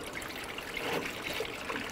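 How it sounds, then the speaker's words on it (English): A 50-50 mix of coolant and water pours through a funnel into a Ford F-150 coolant reservoir, producing a steady, close splashing trickle. "we're going to use a funnel and use the correct 50-50 mix of coolant and water"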